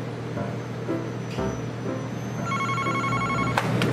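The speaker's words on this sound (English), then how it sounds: "If the phone rings, just answer it and say, you know, this is Domino's." A telephone rings at a Domino's pizza counter, its bright electronic trilling ring starting partway through over a steady low hum of room noise.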